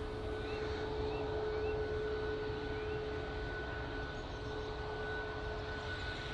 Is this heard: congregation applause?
no